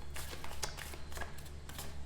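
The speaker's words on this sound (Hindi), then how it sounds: "सो यहाँ पर आपके लिए मैं 3 कार्ड्स निकालती हूँ" Tarot cards are shuffled and drawn in a quick series of soft, crisp riffles and slaps, fairly quiet and close, with no voice over them.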